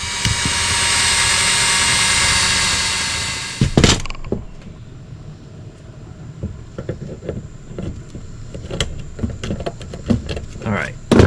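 A drill whirs loudly and steadily for several seconds into a metal mounting piece for a Jeep JLU dash, then stops with a clunk, followed by scattered clicks and handling noises.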